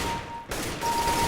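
A burst of AK rifle fire in a video game, loud and dense, a rapid fusillade that briefly breaks off and resumes for a second string of shots.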